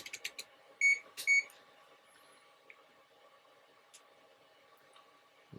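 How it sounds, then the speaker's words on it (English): A multimeter set to continuity test mode gives a few short, quiet electronic beeps near the start, two slightly longer tones among them, while a C64 or Atari joystick is being built. Faint clicks and a low hum fill the rest. "turn on the multimeter and go down to our continuity testing"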